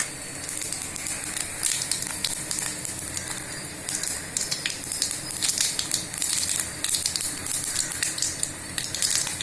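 Mustard seeds, fenugreek and cumin sizzle and crackle in a mix of ghee and oil, with a continuous bright hiss dotted with sharp little pops, close and fairly loud throughout.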